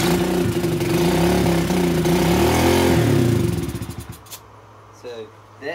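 A dirt bike engine roars loudly at close range, then sputters and dies down as the idle fails, leaving a faint low hum and occasional rattles.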